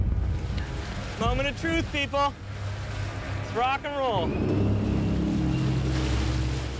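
A speedboat's motor rises as it begins to accelerate across the water, a loud wash of engine and spray building steadily under and after a short burst of voices.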